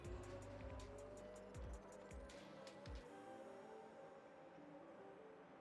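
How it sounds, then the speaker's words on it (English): A Formula 1 car in F1 Manager 2022 crashes and slides a long way, its engine roaring loudly with squealing tyres and scraping skids. The engine sound cuts off abruptly about three seconds in, leaving a quieter hum. "This is the very long doesn't stop crash"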